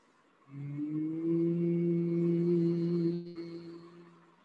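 A single long, steady hum imitating a buzzing bumblebee, voiced through the nose and mouth, rising in and fading after a few seconds.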